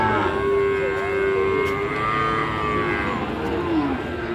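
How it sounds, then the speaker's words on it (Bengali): Cattle at the Monirampur cow market lowing in long drawn moos, one steady call then a falling one, over a dense murmur of market crowd noise. "এই মনিরামপুর হাটে অনেক গরু পাওয়া যায়"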